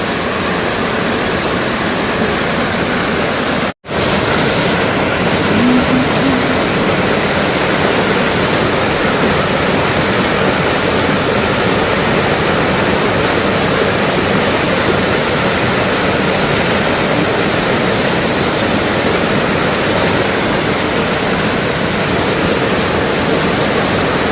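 A roadside waterfall in Devgad, swollen in the rainy season, roars as a constant, loud, close rush of falling water with no voices.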